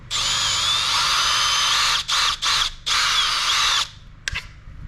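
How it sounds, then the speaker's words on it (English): A power drill drilling into plastic whirs steadily at high pitch, then stops and restarts in short bursts before going quiet, close and loud. "you're just drilling into plastic"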